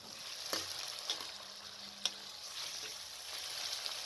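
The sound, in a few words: frying mashed eggplant for baingan bharta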